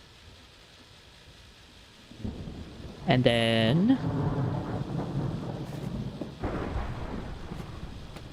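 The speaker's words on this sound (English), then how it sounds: "I don't want the storm to burn anything down." Thunderstorm in a modded Minecraft-style game: a deep rolling rumble swells in and keeps rumbling under rain-like hiss, with a brief rising electronic chirp partway through and a voice speaking briefly.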